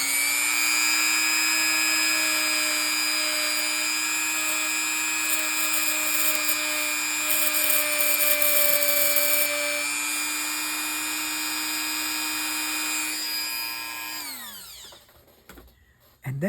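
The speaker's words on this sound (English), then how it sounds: "I'm going to take this Dremel tool and we're going to spin it up and try to clean that." A Dremel rotary tool spins at high speed against the roller of a Dolphin 580 fishing reel, giving a steady close whine that holds for about fourteen seconds before winding down and stopping.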